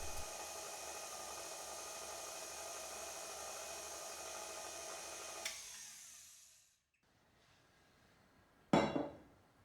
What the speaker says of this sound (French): Baissez la vitesse de votre robot, ajoutez les jaunes d'œufs,